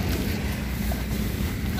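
Strong wind at a Sharjah beach buffets the microphone in a steady, loud rumble with no pauses.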